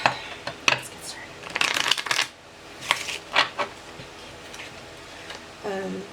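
Tarot cards are shuffled by hand close up in bursts of crisp riffling and flicking, with a soft voice speaking now and then between the shuffles.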